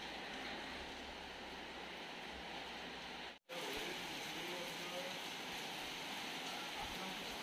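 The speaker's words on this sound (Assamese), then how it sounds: "ফাইনেলি বৰষুণটো অলপ কমিল" Rain falling around a car, a steady soft wash of drops with a brief dropout midway, then continuing at the same even level.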